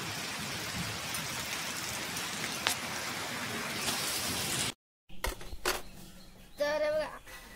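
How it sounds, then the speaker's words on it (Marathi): Heavy rain pours down in a dense, steady hiss for several seconds, then cuts off abruptly, followed by scattered quieter noises and a brief voice. "मुसळधार पाऊस पडतोय."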